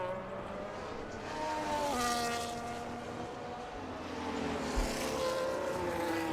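F1 25 race cars on the reversed Austria circuit whine at high revs, engine tones rising and dropping through gear changes, moderately loud and continuous with no talk.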